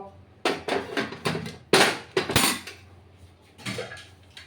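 A lid going onto a pressure cooker of rice pulao in a home kitchen: a string of sharp metallic clanks and rattles, a few heavier knocks among them, then quieter scraping at the end.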